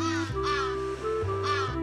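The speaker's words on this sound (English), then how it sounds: "Freaking birds." Crows cawing in a side-scrolling platform game featuring Santa Claus, three harsh, loud caws spaced about half a second apart over a steady droning game tone.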